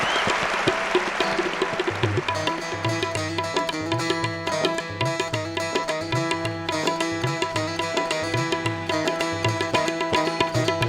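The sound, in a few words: audience applause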